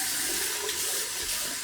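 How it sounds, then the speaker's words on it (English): Tap water running steadily into a sink for a cold rinse after a wet shave, a continuous close hiss and splash with no talking. "Just rinse off with a little bit of a cold rinse."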